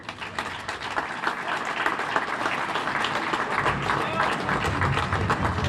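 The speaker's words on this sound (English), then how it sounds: "Please give them a round of applause." Crowd at a Cape Verdean Recognition Week flag raising applauds a church dance ministry group, a steady spread of clapping mixed with voices and cheering, moderately loud and building slightly.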